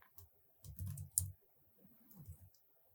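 Fingers tap a computer keyboard in short, quiet bursts of clicking keystrokes, with brief pauses between clusters and no voices.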